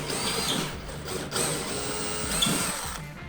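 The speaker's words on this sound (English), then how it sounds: "take a drill bit that's just smaller than my anchor and just go ahead and pre-drill in all of those spots" A power drill bores pilot holes into a wall for anchors, giving a continuous grinding whir that dips briefly partway through and then carries on.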